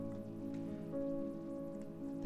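Steady rain falls in the video game Wurm Unlimited, a constant soft wash with a low tonal hum beneath it and no voices.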